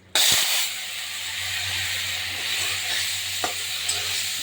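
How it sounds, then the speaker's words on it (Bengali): Fried potatoes go into a pan of tomato curry with a sudden loud sizzle, then a steady hiss of frying continues with occasional spoon scrapes and light taps against the pan, no talking. "আমি এই যে টমেটোর আলুটা ভাজাগুলো দিয়ে দেবো"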